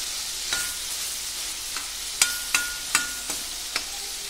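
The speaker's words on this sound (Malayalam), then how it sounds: "നമ്മുടെ ഇറച്ചി വറുത്ത് വരുന്നുണ്ട്" Beef sizzles steadily in a hot pan, and a few sharp spatula scrapes and clinks sound as it is stirred.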